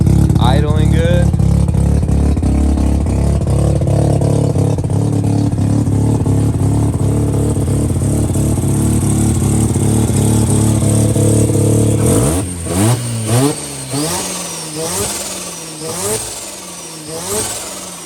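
Rotary engine of a Mazda RX-7 FD with an injector fault, idling steadily with a loud, continuous drone for about twelve seconds, then revved in several rising and falling bursts near the end.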